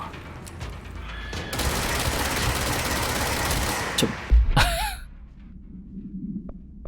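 Rapid gunfire in the video game Control, a dense rattling burst of shots lasting a few seconds, then a heavy boom and an electronic whine before the action quiets.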